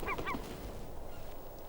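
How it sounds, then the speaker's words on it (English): Ivory and glaucous gulls scavenging at a carcass in a frozen Arctic wilderness, two quick harsh honking calls at the start and then a low steady background. "Ivory and glaucous gulls pick over the bones."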